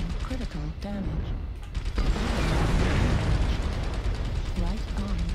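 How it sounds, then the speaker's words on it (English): A mech's right arm being blown apart in MechWarrior Online: a loud, roaring explosion burst lasting a couple of seconds amid game tones and mechanical clanks. "Right arm destroyed."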